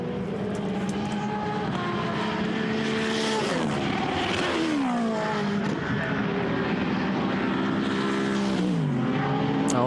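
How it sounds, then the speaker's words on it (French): SMP Racing Ferrari GT race car at Silverstone during a Blancpain Endurance Series race, engine roaring loud and continuous with pitch dropping and shifting as it slows for the pit lane, heavy wind-like noise throughout. "cette Ferrari du SMP Racing qui peut s'engouffrer dans la voie des stands"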